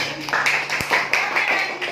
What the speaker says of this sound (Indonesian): Beri tepuk tangan dong yang udah semangat hari ini